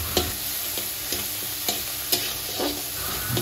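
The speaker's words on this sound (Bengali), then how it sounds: "মটরের পেস্টটা দিয়ে দিব। কিছুক্ষণ ঘাটাঘাটি করবো" A spoon repeatedly scrapes and stirs green pea paste in a hot pan, with soft sizzling underneath and spaced stirring strokes, close and steady, no voices.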